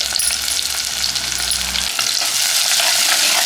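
Loud, steady sizzling of chopped onions and garlic frying in hot oil for a sardine curry, with a brief stirring scrape; no voices.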